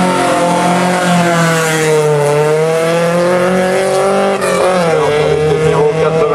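A Volkswagen Golf GTI race car, number 49, on a historic hill climb, roaring loud and close, its engine note sustained and shifting in pitch as the revs rise and fall.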